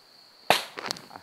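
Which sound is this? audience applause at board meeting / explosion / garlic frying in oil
explosion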